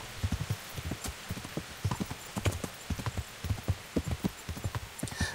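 Rhythmic clip-clop of galloping horse hooves in the video game Kingdom Come: Deliverance, steady and fairly close, with a brief whinny mixed in.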